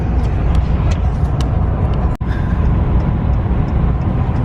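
Steady broadband road and engine roar from inside a RAM 1500 pickup with the 5.7 HEMI cruising on a freeway, loud and continuous, with one brief dropout midway.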